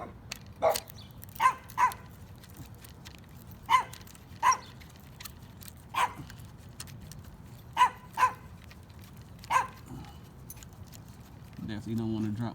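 A small dog barks sharply in short separated bursts, about nine in all, fairly close against a quiet background, near a cable technician working at height.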